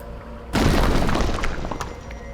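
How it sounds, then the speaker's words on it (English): An explosion effect in the Doki Doki Anomaly video game bursts in abruptly after a brief low hum, a loud booming blast with a crackling, shattering tail that slowly settles. "I'm lifted off my feet by a sudden explosion of light"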